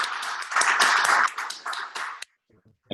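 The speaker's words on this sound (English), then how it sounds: "Can we give General a round of applause?" An audience claps for a retired general at an event at Onikan house, bursts of close clapping mixed with voices, then a sudden drop to near silence with a last brief clap.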